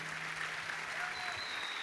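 An audience applauds students at a heritage commitment ceremony for Arkansas colleges, a faint, steady wash of clapping with low voices and a brief tone over it.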